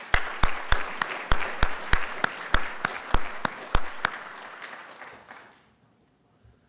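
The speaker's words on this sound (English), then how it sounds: "Please give yourselves a round of applause." A city-address audience gives a round of applause as a steady, evenly paced series of claps that fades out after about five seconds, leaving near silence.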